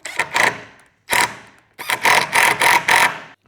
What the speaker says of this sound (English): We're going to get one of the longer screws, and there's already a pre-drilled hole that we're going to screw.